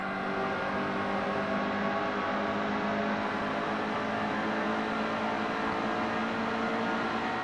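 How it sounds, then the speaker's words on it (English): Racing pickup truck engine in the NASCAR Heat 2 video game, a steady high whining engine drone on a race track that stays constant and fairly loud throughout. "Oh, we got a faster truck than Bell"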